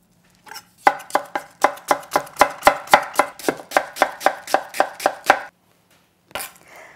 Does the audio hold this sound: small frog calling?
no